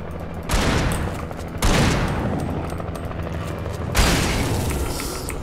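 Shotgun blasts in the video game Alan Wake: three heavy booming shots spaced a second or two apart, each followed by a long rumbling decay, with no talking.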